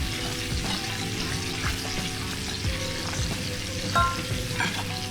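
Fish fillets fry in a hot pan with a steady, close sizzle that runs throughout, with occasional light clicks from the pan and utensil as the fillets are flipped.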